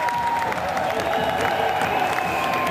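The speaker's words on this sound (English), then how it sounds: "continuing their applause" A crowd in an art gallery claps and cheers at a lucha libre tag match, a loud continuous wash of applause with a faint voice and tones running underneath.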